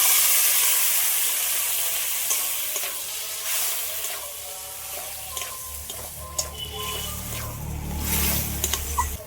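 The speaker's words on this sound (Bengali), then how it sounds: "মশলার সাথে চালটা একটু হালকা করে একটু নেড়ে চেড়ে নিয়েছি" Govindobhog rice stirred and fried with spices in a pan for a carp fish-head muri ghonto, a steady close sizzle with scraping stirs of a spoon, no talking.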